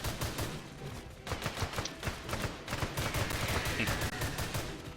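Rapid automatic gunfire hammers at a T. rex in the co-op dinosaur shooter Dino Horde, a dense continuous rattle of overlapping shots with other game noise mixed in.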